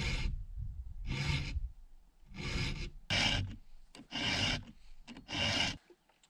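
Chainsaw chain on a Logosol mill saw sharpened with a hand file, five rhythmic rasping strokes, each about half a second long, close and fairly loud with brief pauses between.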